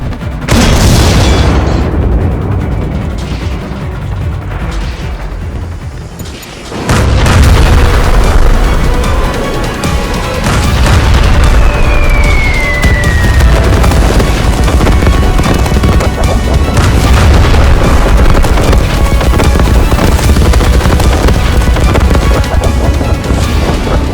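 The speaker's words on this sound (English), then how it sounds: "Ratte is caught in a barrage of artillery" An artillery barrage pounds a tank in a cartoon: heavy, loud booming explosions roll continuously over about 24 seconds, with a brief lull and a whistling incoming shell amid the dense rumble.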